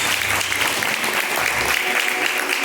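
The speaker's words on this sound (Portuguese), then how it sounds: "Palmas para louvar a Deus" A church congregation claps together in praise of God during a live worship service, sustained broad applause at moderate loudness throughout.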